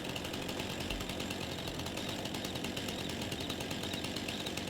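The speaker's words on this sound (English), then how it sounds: "We'll go back to the chainsaw, put it into the cut position," Chainsaw cutting a lodgepole pine in the Farming Simulator 22 video game, a steady buzzing engine drone that holds at an even level throughout with no pauses or talk.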